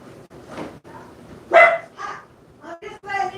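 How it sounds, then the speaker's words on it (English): A pet dog barks indoors at home in a few sharp, moderately loud barks mixed with whimpery yips, while a person talks nearby. "Quit barking at your sister."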